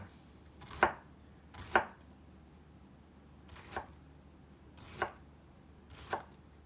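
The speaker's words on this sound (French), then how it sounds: "Et je vais détailler les endives." Knife chopping endives on a cutting board for an endive tartiflette, five crisp separate strikes at uneven intervals, close and fairly quiet over a low room hum.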